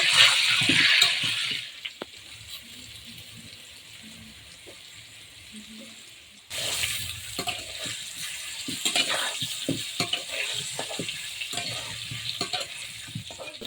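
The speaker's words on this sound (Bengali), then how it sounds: "আলু কিন্তু লাল লাল পুরো ভাজা হয়ে গেছে" Potatoes frying in a pan give a close sizzle with stirring scrapes, which drops to a quieter hiss partway through and then returns louder with busy crackling, no voices.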